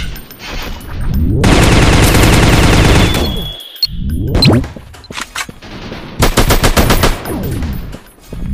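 Machine gun fire in an Android FPS shooting game, with long loud sustained bursts separated by short gaps and scattered single shots and clicks.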